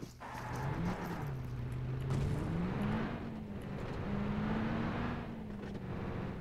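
Car driving in PUBG Mobile, its engine humming steadily with a wavering pitch that rises and dips as it accelerates and cruises, close and continuous without talk.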